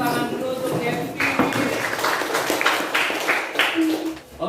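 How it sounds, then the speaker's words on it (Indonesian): Pupils in a classroom clap together, a dense patter of many hands under voices and chatter, continuing steadily for several seconds before tapering off. "Tepuk tangan dulu untuk Yeptin."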